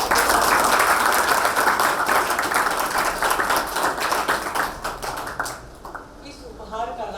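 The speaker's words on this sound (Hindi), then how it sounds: "सब ताली बजाएंगे बहुत खुशी के साथ" An audience at a gift ceremony at the Bikaner Blind School claps together in a dense, loud, sustained burst of applause that gradually thins and fades out near the end.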